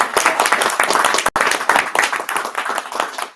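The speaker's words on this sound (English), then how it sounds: "if we could give just a special warm welcome of applause for Melissa" Audience applause welcoming a guest named Melissa at a business talk on AI proficiency, a dense burst of many hands clapping, loud and steady, with one very brief dip partway through.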